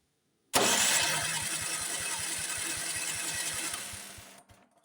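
A flooded Honda snowblower engine is cranked with the electric starter key, a sudden loud starter whir with rapid rhythmic chugging pulses that runs for about four seconds and then stops without catching.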